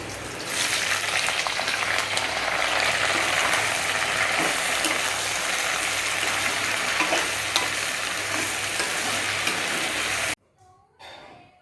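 Loud, steady sizzling of onions frying in hot oil in a wok, with occasional stirring scrapes, cutting off abruptly near the end into quiet.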